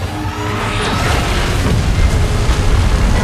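A beam blast explodes in the Titan Last Stand video game mode, a loud, continuous booming roar with a heavy low rumble that fills the whole stretch without letting up.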